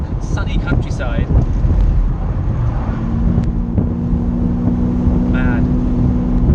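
Inside a Mercedes-Benz 600SL on a country drive, the V12 gives a constant low rumble under heavy road and wind noise. A faint steady tone and a few brief higher sounds rise over it.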